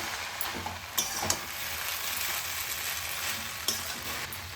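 Vegetable chow mein stirred in a hot frying pan with coriander leaves and fried spices, giving a steady close sizzle broken by a few sharp clinks of the utensil against the pan.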